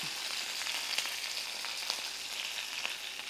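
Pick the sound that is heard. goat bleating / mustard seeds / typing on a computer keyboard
mustard seeds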